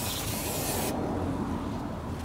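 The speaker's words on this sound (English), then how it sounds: "What I also like to do is I like to get some brake clean" Aerosol brake cleaner hissing onto the surface of a new brake rotor, one continuous close spray burst lasting about two seconds with no talking.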